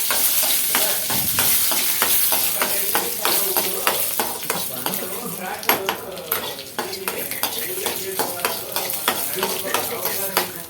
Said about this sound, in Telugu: ఇలాగైతే బాగా మనము రెడ్గా అయిపోయేంత వరకు మనమైతే వేయించుకోవాలి